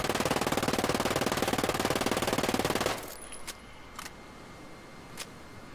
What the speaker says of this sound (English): Let's go full auto and see what happens.